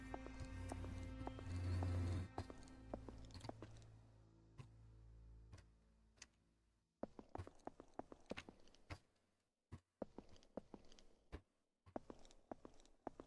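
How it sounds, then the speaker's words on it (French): Echoing footsteps sound in an SCP exploration video game: a run of regular, sharp, hollow clicking steps in a reverberant space, starting after a low droning rumble fades and continuing steadily with brief pauses. "C'est bizarre ces bruits de pas."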